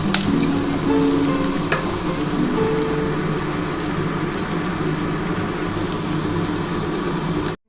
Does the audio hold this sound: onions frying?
yes